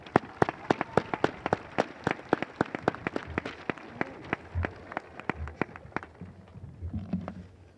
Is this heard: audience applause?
yes